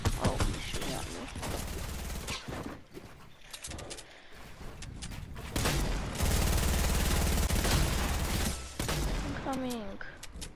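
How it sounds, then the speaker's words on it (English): Rapid bursts of automatic gunfire from a Fortnite match crackle loud and dense through most of the stretch, mixed with in-game effects, while a player talks over the shooting. "Oh, he's shooting at me."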